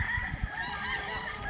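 Chickens honking and clucking close by on a farm, a busy cluster of birds calling over one another with a few louder bursts.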